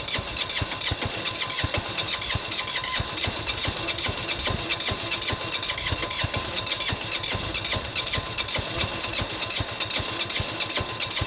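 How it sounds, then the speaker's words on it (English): China Diesel 6HP engine cranking over on a -20 cold start with no intake heater, a loud, continuous rapid chugging that holds steady throughout without pause. "I gotta keep the starter on. If I let go, it'll just die."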